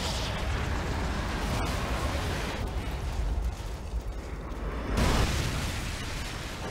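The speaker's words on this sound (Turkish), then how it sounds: "Evet, bir patlamalar, bir şeyler oluyor." Rumbling explosions and bursts of gunfire from the video game Call of Duty Modern Warfare 2 fill the scene as a dense, continuous roar, with a sharp crack near the middle and a louder surge toward the end.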